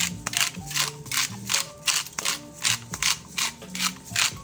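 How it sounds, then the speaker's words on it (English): A cinnamon and sugar grinder gives a series of quick rhythmic ratcheting grinds over a German plum cake, about a dozen close, crisp crunching strokes with no talk. "I happen to have this great little cinnamon and sugar grinder."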